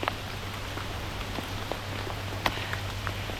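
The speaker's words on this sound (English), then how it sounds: "Okay, that's hail. The hail is quite heavy, but it's quite small." Small but heavy hail falls on a cycling route near Passau, making a dense spatter of tiny ticks and taps with a few sharper hits, steady and moderately faint over a low hum.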